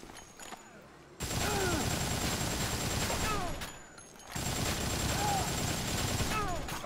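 Rapid gunfire from a gun in the video game Dead Rising, dense loud bursts of shots in two long stretches separated by a brief lull, with game sounds layered underneath.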